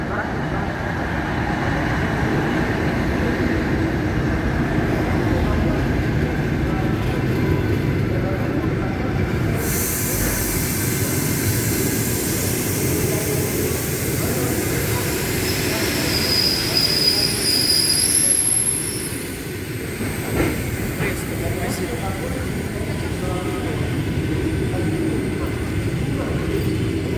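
An EP2K electric locomotive pulls a passenger train into Novosibirsk-Glavny station, its wheels squealing in high sustained screeches over a steady rumble, with a station announcement sounding partway through.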